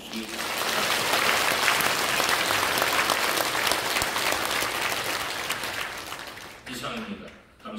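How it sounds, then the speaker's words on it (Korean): Loud, sustained applause from a church congregation at a Korean Christian council president's inauguration thanksgiving service, holding steady for about six seconds before fading and breaking off near the end. "환영의 박수를 한번 해주시기 바랍니다"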